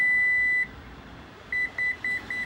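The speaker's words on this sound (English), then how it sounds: "until you hear the 3 beeps, then that means it saves it at that position." Power liftgate of a 2017 Lexus RX350 Luxury Package sounding its height-memory confirmation: one long electronic tone, a pause, then three short clear beeps in an even rhythm, close and alone.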